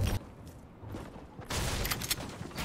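Gunfire in a shooter video game, with bursts of rapid shots in two loud clusters, one at the start and a longer one in the second half, over a quiet background.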